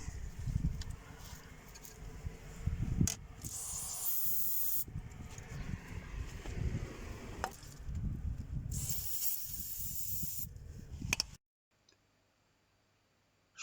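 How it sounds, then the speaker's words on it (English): Penetrating oil sprayed from an aerosol can onto the anti-roll bar link bolts of a Citroen Relay van, several close hissing bursts with short pauses, then silence. "And then I spray a bit of penetrating oil onto the bolts."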